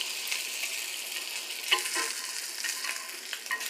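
French toast and sausages frying in a pan at home, a steady broadband sizzle with light scraping and stirring clicks throughout, no voices over it.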